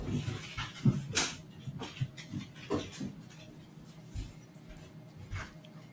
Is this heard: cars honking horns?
no